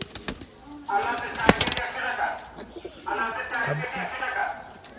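Soft pigeon coos come in two drawn-out bursts, with a person talking over them and a few sharp clicks.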